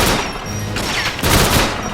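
Loud, dense gunfire in a first-person shooter's St. Petersburg station level, overlapping shots in quick bursts with a heavy, continuous wash of noise and no voices.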